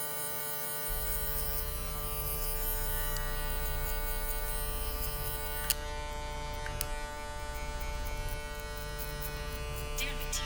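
Electric hair clippers fitted with a Wezteck blade and guard system, set to 0.5 with the lever open, buzz steadily and close up throughout a barbershop cleanup cut, a constant mains-like hum with a few brief clicks and no talking.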